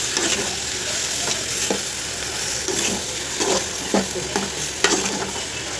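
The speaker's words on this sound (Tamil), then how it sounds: "இப்போ எல்லாத்தையும் போட்டுட்டு மிக்ஸ் பண்ணிக்கலாம்" Shark puttu mixture stirred in a hot pan, a steady sizzle and frying hiss under repeated scraping strokes of a spoon, close and continuous with no voices.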